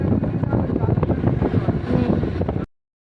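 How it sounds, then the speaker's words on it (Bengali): Gusty cold wind after rain roars and buffets the microphone in a continuous low rush, then cuts off abruptly. "বেশ ভালোই ঠান্ডা হাওয়াটা দিচ্ছে"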